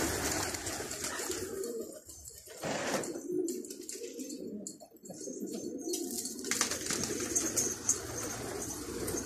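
Pigeons coo outdoors in low repeated calls among other bird chirps and rustling, with wind and handling noise around them and brief faint voices in the background.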